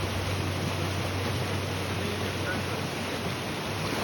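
A Maryland river rushes over moss-covered boulders, a steady, loud, broadband roar of flowing water that continues unbroken throughout without any voices.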